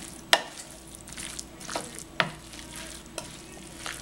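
Creamy broccoli rice mixture being stirred in a pan, with soft scraping strokes and a few sharper spoon knocks spaced about every second, gentle sizzling beneath.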